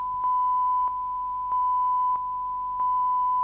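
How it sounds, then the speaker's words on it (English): A phone notification chimes three times in a row, evenly spaced steady electronic beeps over a quiet background, with no talking. "Fucking phone went."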